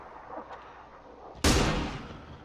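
Gunfire in a video game, one sharp close blast that cuts in suddenly and rings out with a booming decay, after a stretch of low background noise.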